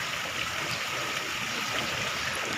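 Shower at a salon or mall area, with water running steadily as a continuous hiss and splash at moderate level.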